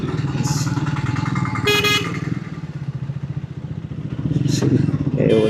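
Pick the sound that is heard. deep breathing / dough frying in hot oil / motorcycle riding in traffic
motorcycle riding in traffic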